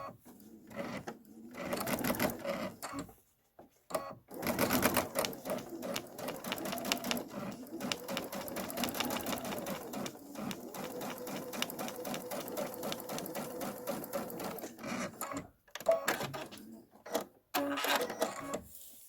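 A home sewing machine stitches steadily at close range while making an embellishment and eyelet project, its rapid mechanical whirr running almost continuously and pausing briefly a few times between runs.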